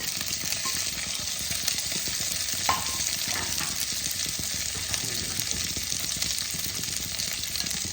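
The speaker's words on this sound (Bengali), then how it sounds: "এবার দেখো আমি ভাজা ফুলকপি, গাজর আর বিনসগুলোকে ছেড়ে দিলাম।" Fried cauliflower, carrot and beans go into a pan with cashews and raisins, filling it with a loud, continuous sizzle and frying hiss, with stirring scrapes running underneath.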